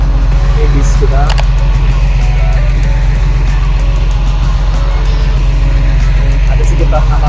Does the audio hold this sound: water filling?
no